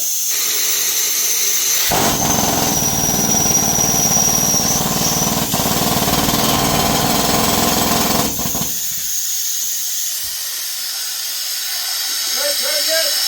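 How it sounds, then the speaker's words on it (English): A loud, continuous pneumatic rock drill hammers and hisses for several seconds at a small-scale gold mine, then cuts off, leaving quieter background noise and a faint voice near the end. "Hey, drilling!"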